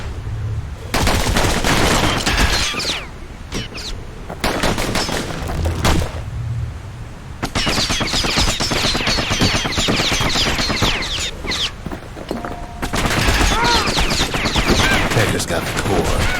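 Guns blaze in the Bastion video game, with dense bursts of rapid gunfire in several loud stretches broken by brief lulls, backed by game music and effects.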